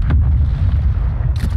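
An enemy attack helicopter crashing in the DMZ mode of a Call of Duty video game gives a deep, rumbling explosion boom that holds loud throughout, with a sharp burst near the end.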